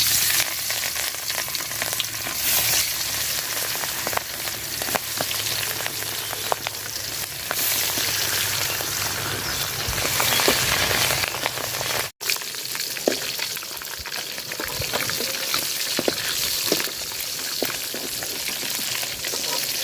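Tilapia pieces fry in hot oil in a pot with a steady, dense sizzle and crackle, scattered pops and brief scraping, one short dropout midway, no talking.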